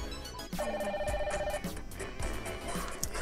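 A phone call rings through the Android head unit fitted in a 2017 Kia Rio, a steady electronic ringtone tone pattern lasting about a second over a busy in-car background hum.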